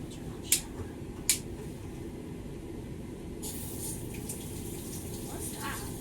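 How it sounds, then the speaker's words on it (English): A shower runs at a low, gentle flow during a dog grooming session, a faint steady hiss of water with a couple of sharp knocks early on and a brighter spray coming in partway through. "Just turn on just a little bit. Turn on shower."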